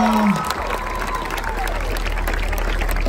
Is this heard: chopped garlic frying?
no